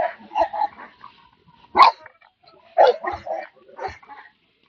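A pack of dogs lets out a few short, loud bursts of barking in separate clusters, with gaps of quiet between the barks.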